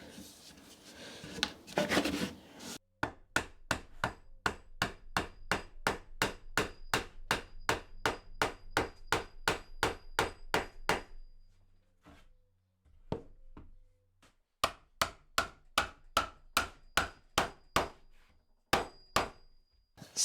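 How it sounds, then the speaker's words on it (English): Wooden legs of a small handmade stool being driven into glued tenons, a long run of sharp, evenly spaced hammer knocks with short pauses between bursts, close and loud with no talk. "put on the tenons, and then get the legs pushed into place"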